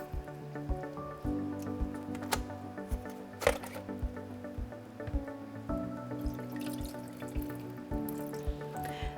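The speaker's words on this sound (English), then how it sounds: "Simply hold it under running water and rinse it out." A vacuum cleaner's fine dust filter is rinsed under running water, giving a steady wet splashing and dripping, with soft squishy knocks at irregular moments throughout.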